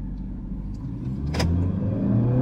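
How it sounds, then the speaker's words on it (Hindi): A new Toyota Urban Cruiser Hyryder car driving, heard from inside the cabin as a steady low engine and road drone that swells slightly as it gets under way, with a brief click partway through. "so let's drive the all new urban cruiser high rider"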